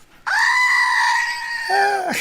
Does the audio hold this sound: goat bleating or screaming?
yes